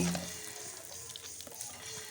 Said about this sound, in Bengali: গরম তেলে উস্তেগুলো খুব ভালো করে ভাজতে হবে